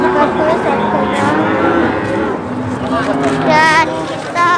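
Simmental cattle lowing at the Wirosari cattle market, several loud, close moos overlapping amid crowd chatter and people talking nearby.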